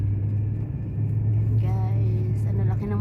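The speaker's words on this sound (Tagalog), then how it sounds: "Oh, may motor na delivery boy." A delivery rider's motorbike passes along a residential street in Kuwait at night, its low engine drone rising and fading under a steady hum, with faint voices nearby.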